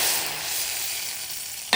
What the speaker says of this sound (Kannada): ಒಗ್ಗರಣೆ ಪಾಡ್ದು ಕಾಯ್ದು